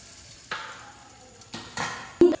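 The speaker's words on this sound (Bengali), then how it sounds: "এখানে সাদা তেল গরম করে নিয়েছি এর মধ্যে সামান্য নুন দিয়ে আমি পনিরগুলোকে ভেজে নেব" Paneer pieces go into hot white oil seasoned with a little salt, producing short bursts of sizzling between quiet gaps, with a sharp clink near the end.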